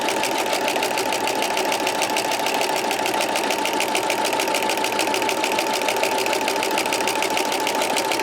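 A sewing machine with a walking foot stitches a wavy quilting line at its preset stitch length and width, giving off a loud, steady mechanical whir with an even rapid pulse for the whole stretch and no talking.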